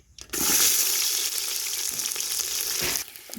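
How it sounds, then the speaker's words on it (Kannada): Onions dropped into hot oil in a pan for egg biryani, cooked outdoors at night on a farm, burst into a loud close sizzle that holds steady for about three seconds before cutting off, with no talking. "ಈಗ ಆನಿಯನ್ ಹಾಕ್ತಾ ಇದ್ದಾಳೆ."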